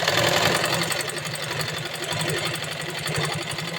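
Sewing machine stitching a seam on a simple kurti, a steady fast mechanical whirr with rapid needle clatter running continuously and close up, no talking.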